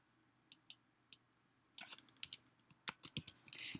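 Someone types a character name on a computer keyboard: a few isolated keystrokes, then a quicker run of close, crisp clicks in a quiet room.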